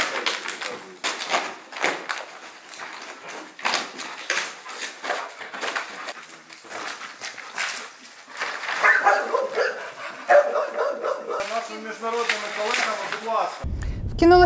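Rescue dog in search training at an artificial rubble site: repeated sharp barks in quick bursts at moderate distance, heard under steady talk.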